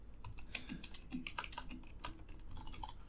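Quick, light keystrokes on a computer keyboard as a command is typed, irregular clicks and taps in short bursts, close and fairly quiet with no talking.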